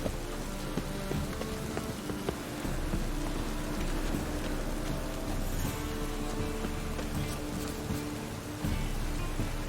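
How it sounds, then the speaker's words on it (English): Steady rain in The Witcher 3 video game patters densely on surfaces, loud and continuous for about ten seconds, with low rumbling beneath and no talking. "It's making me go out in the rain and do this."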